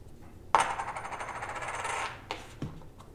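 Coins pouring out in the Orleans board game played as a video game: a bright, continuous metallic jingle for about a second and a half, then a couple of separate clinks as it settles, with no talk.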